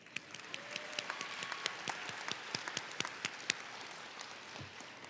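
Audience applause at a Dallas ISD MLK Jr. oratory competition, a crowd clapping steadily in crisp scattered claps that stay even and then fade slightly, heard alone without speech.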